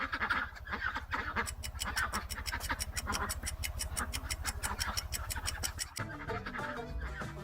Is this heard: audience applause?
no